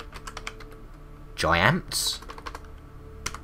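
Light, steady keystrokes tap on a computer keyboard at low volume, continuing as someone speaks briefly over them.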